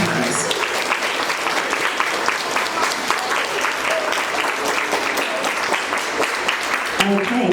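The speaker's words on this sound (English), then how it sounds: "So a big round of applause for teachers and parents." Students clap together for their teachers and parents at a school awards assembly, a dense, steady round of applause that fills the room throughout and thins out near the end, with a voice briefly audible underneath.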